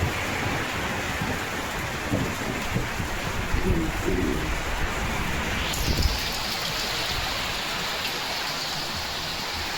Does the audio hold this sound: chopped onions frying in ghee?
no